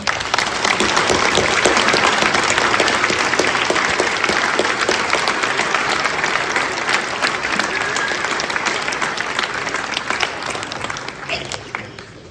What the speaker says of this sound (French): je crois qu'on peut vous applaudir très très fort.